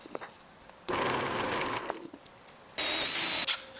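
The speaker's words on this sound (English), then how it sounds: "I'll drill a couple of 3/8 inch holes for the dowel placement" A power drill bores 3/8 inch dowel holes into wood for a farmhouse-style X bed, two loud bursts of whirring and cutting separated by a quieter pause, with faint handling noise before and after.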